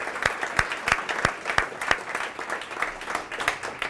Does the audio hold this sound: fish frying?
no